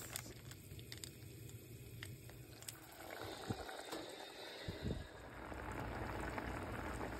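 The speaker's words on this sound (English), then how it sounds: "It's raining, it's pouring" Rain patters steadily, a soft wash of droplets that thickens and grows louder toward the end, with no voices.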